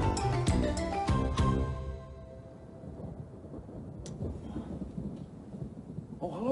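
Thunderstorm over a harbor in an animated tugboat show: a loud rolling crack of thunder opens, then fades into steady heavy rain hissing throughout, with a smaller rumble later.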